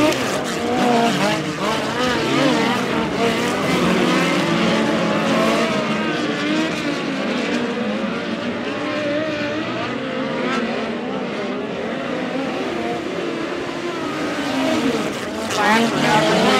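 Midget race cars in a POWRi National/West Midget League race at Valley Speedway roar continuously at close range, engines droning and shifting as the pack runs, with a voice talking over the steady racing noise throughout.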